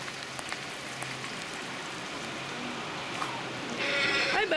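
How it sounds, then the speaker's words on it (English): Rain patters steadily on a barn roof, a continuous close hiss with scattered drips, and a faint animal bleat or two inside the barn; the sound swells slightly toward the end. "Why don't that rain sound lovely on the roof?"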